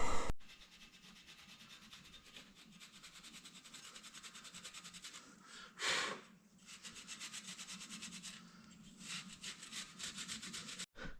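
Rust is scrubbed off an engine flywheel with a steady, close abrasive rasping and scraping. The strokes run continuously, with a brief louder scrape in the middle.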